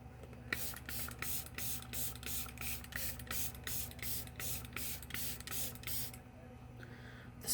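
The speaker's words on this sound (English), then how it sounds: "let's spray the face" A makeup setting spray mists onto a face in a long run of quick, evenly spaced hissing bursts, close and fairly loud, stopping shortly before the end.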